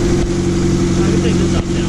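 An RB25 turbo engine holds on two-step launch control, giving a loud, steady, buzzing drone with brief dips, close up.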